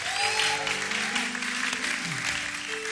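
A church congregation claps steadily to acclaim Jesus, with the dense applause carrying on throughout alongside sustained musical tones.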